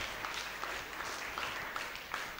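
A church congregation at a Sunday mass in Kankipadu parish applauds, a dense, even wash of many hands clapping at once, sustained throughout without speech.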